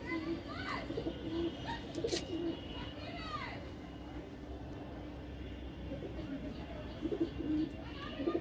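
A hand-held pigeon coos in soft repeated low calls over a steady background hum, with a person talking nearby.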